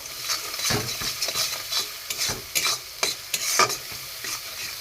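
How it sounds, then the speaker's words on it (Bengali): Garam masala and grated ginger being sautéed in a pan, quick repeated scraping stirs over a soft sizzle, close and rhythmic with no speech. "এখানে গরম মশলা, এখানে আদা গ্রেট করা, একসাথে আমি কষিয়ে নেব"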